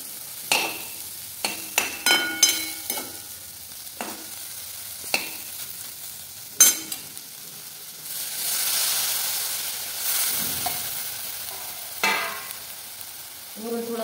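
Stuffed okra cooks on a low gas flame, with scattered sharp clinks and stirring knocks over a soft crackle that swells into a gentle steady sizzle.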